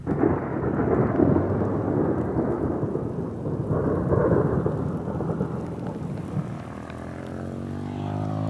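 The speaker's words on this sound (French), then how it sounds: "Il se met à pleuvoir." Rain begins beside an Alpine road in the Isère as thunder rolls long and deep, a sustained rumbling swell over steady rainfall that gradually fades.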